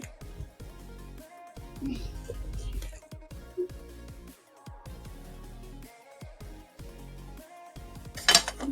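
Cooled alu vadi, a Maharashtrian steamed colocasia-leaf roll, being sliced into pieces with a knife on a plate, giving a series of soft close cuts and light metallic clinks of cutlery against dishes, with a brief sharp clatter near the end.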